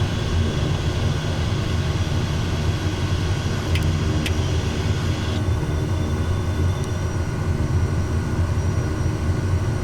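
A propeller aircraft in Microsoft Flight Simulator 2024 drones loudly and steadily through its takeoff run, a constant engine roar with a few faint clicks on top.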